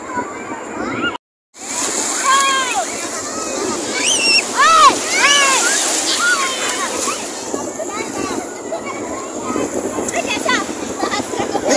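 Sea waves wash in over the sand at Hawksbay Beach in Karachi, a steady sloshing surf that swells and recedes while excited children shout and chatter close by.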